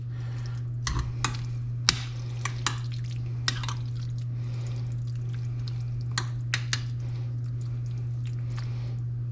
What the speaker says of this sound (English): We're just going to stir all this up really nice.